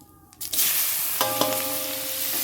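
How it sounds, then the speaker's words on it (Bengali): Onions dropped into hot oil already seasoned with cumin, green chilli and bay leaf burst into a loud, steady sizzle. A faint clatter comes first, then the frying hiss swells and holds close up, with stirring knocks partway through. "পেঁয়াজটা দিয়ে দিলাম পেঁয়াজটা দিয়ে নাড়াচাড়া দেবো"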